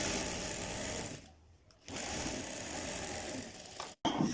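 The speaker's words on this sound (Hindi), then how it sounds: "हमने ये जो 2 पीस कटिंग की थे इन पे हमने आधा इंच की गैप पे सिलाई लगा लेनी है" A sewing machine runs fast and steady, stitching two cut kurta pieces together. The motor whirs close by and cuts out for a short pause before resuming.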